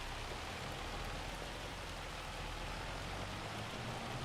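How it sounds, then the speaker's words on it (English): In Farming Simulator 25, hail pours down over the Alma, Missouri farmland, giving a continuous rushing patter, steady and fairly loud, like heavy rain with no pauses and no voices. "Hail, hail."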